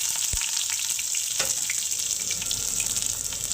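Chopped onion dropped into hot oil with black cumin, a sharp burst of sizzling that settles into a steady fry with light stirring scrapes, heard up close.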